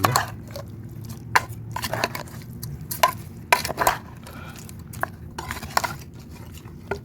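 Camel meat curry being mixed in a pot, giving close, irregular scraping and clanking of a utensil against the pot with soft squishy stirring between the knocks, without talk.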